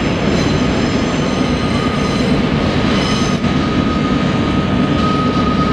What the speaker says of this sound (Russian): Это вот 10 минут мы видели, как поезд идет.